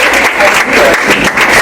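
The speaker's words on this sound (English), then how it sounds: "I think you deserve an applause." School board meeting audience breaking into applause, a full burst of many hands clapping that swells and dips slightly in waves, fairly loud and close, with no speech on top.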